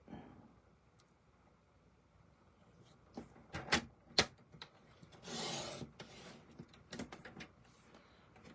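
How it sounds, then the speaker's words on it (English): A paper trimmer slices through cardstock for a handmade greeting card: a few short scraping strokes, then one longer sliding swish of the blade across the sheet, with small taps and clicks of handling around it, near and fairly soft. "And then I'm going to just turn this one and trim it."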